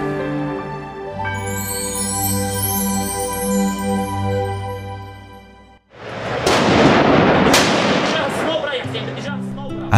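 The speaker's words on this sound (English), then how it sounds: "At the sound of gunfire, everyone looks fearful and apprehensive." Gunfire in a Syrian civil war setting: a sharp loud crack followed by a burst of heavy, rumbling reports with echoing decay, coming in after a stretch of sustained music.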